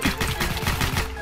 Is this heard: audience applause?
no